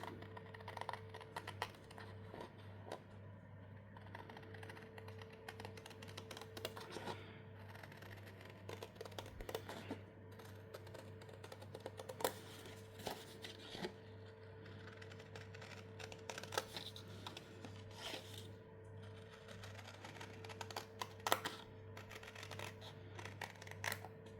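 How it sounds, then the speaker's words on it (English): Faint, crisp snipping of scissors cutting paper and small rustling clicks scattered over a low steady hum, with no voices. "I'm going to use my scissors for that."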